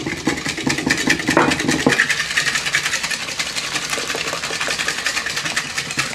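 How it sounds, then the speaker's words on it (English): Egg whites and sugar are whisked briskly in a bowl, a continuous close, rapid scraping and rattling with a fast steady rhythm throughout. "I'm gonna whisk up the egg whites a little bit just to break them up. And then I'm gonna mix in my sugar."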